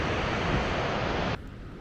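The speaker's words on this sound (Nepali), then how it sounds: "तल चाहिँ त्रिशुली खोला सुसाइरहेको छ।" The Trishuli river roars steadily below a trail near Syabrubesi in Nepal's Langtang region, a dense, close-sounding rush of water that drops off abruptly near the end.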